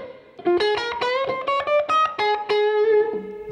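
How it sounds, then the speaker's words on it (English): Clean electric guitar notes and chords played through a Fender Blues Junior combo amp, with a light reverb tail trailing behind each phrase. "You can actually hear kind of just a little bit of reverb behind the."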